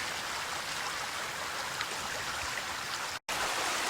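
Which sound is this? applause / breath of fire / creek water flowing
creek water flowing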